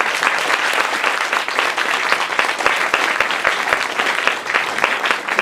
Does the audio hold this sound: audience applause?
yes